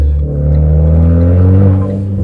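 A Renault Clio 4 RS Trophy engine revs loudly and close, pitch climbing and holding steady before easing off, with a brief whooshing dump valve release near the start.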